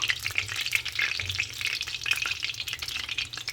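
Soya chunks for chilli soya chunks 65 crackle and sizzle in hot oil during their second fry, with a steady bright frying hiss and occasional stirring, close up and with no talk.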